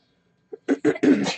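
A sneeze from someone close by: a small catch of breath, then a few quick bursts rising to a sharp, loud, noisy release, heard alone with no talking.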